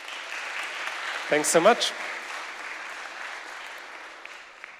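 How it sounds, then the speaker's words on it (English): A conference audience at the ETHWarsaw 2022 main stage claps for a speaker named Orest; a steady wash of clapping continues while a voice briefly talks over it near the middle. "Guys, clap it up for Orest."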